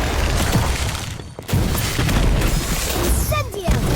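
In the Harry Potter Magic Awakened video game, an Expulso spell bursts in a loud, dense blast with crackling debris, surrounded by other booming game effects and swooshes.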